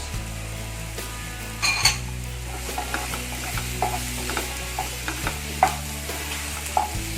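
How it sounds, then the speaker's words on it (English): Mushrooms added to a hot pan of jeera and coriander powder for a mushroom baby-corn masala sizzle steadily while a spoon clinks and scrapes against the pan in irregular stirring strokes, close up, with no talking. "Time to add our mushrooms."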